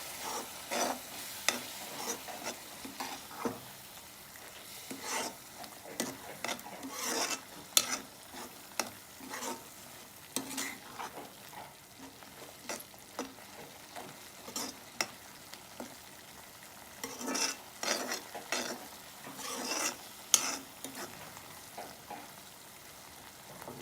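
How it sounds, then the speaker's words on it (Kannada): Tomato puree for paneer butter masala fries in a pan under a steady low sizzle, broken by repeated scraping strokes of a spoon stirring at close range, with no talking. "ಟೊಮೆಟೊ ಪ್ಯೂರಿನೂ ಚೆನ್ನಾಗಿ ಫ್ರೈ ಆಗಬೇಕು."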